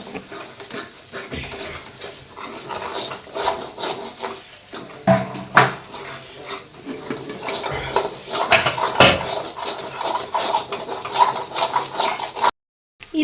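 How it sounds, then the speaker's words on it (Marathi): Spices being mixed and roasted into a masala base for paneer tikka masala, with repeated spoon scrapes and clanks against the pan over a faint sizzle, irregular and close. "आता हे घातलेले मसाले आपण या मसाल्यामध्ये मिक्स करून घेऊया आणि एक मिनिट भाजून घेऊया"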